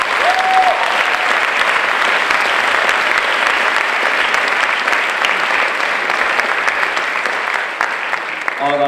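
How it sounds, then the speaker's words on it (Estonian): A large gala audience at a film premiere applauds Jaanus, loud, dense and continuous clapping that holds steady for nearly nine seconds before easing slightly near the end. "igal juhul aplaus Jaanusele"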